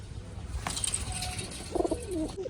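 Soft pigeon cooing at a distance, a few rolling calls with faint chirps and a light rustle, fairly quiet overall.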